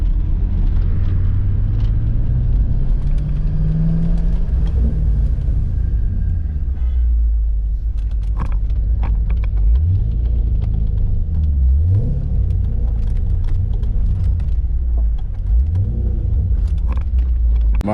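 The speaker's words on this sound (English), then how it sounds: "This is full straight pipe, yo." A Ford Mustang with a straight-pipe exhaust roars loudly and continuously, with deep rumbling and several sharp revs rising and falling in the second half.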